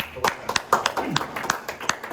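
Scattered hand clapping from a small community meetup audience, a few distinct uneven claps with gaps between them, mixed with voices talking over the claps.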